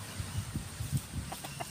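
Soft, low clucking from a chicken with indigestion, several short murmuring notes close by in a quiet setting.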